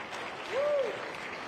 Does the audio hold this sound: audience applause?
yes